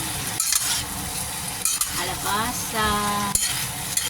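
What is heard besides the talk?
mixed vegetables frying and being stirred in a pan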